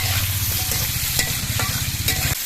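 Potatoes and vegetable stems sizzle in oil in a pan while being stirred, a continuous close frying hiss with a low rumble and a few sharp scrapes.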